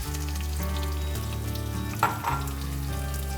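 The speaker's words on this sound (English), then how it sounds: "I'm going to take some Vidalia onion that I diced up, and I'm going to add that to the pan." Diced Vidalia onion sizzles steadily in a hot frying pan, a close, continuous crackle with a brief stirring scrape partway through and no voices.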